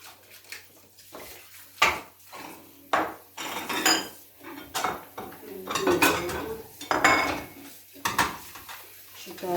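Ceramic plates and dishes clatter and clink as they are handled and stacked, a series of sharp close knocks in irregular bursts, with voices talking in between.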